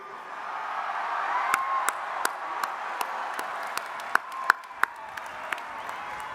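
A large crowd at a Georgia Tech engineering bachelor's graduation ceremony applauds and cheers, heard as a broad distant wash of clapping with scattered sharper claps standing out near the end.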